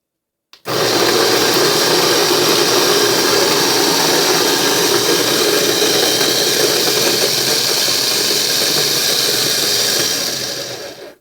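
A Cuisinart CBM-18 burr coffee grinder runs steadily on coffee beans for about ten seconds, a loud, constant whirring grind that starts abruptly and tapers off at the end, with no talking.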